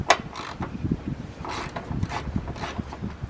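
Ratchet clicking in short, uneven bursts while loosening the 14mm bolts under the seat bench of a 2006 Pontiac Vibe; quiet, close metallic ratcheting with scattered knocks and no talk.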